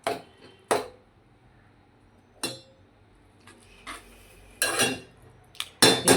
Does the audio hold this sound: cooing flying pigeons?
no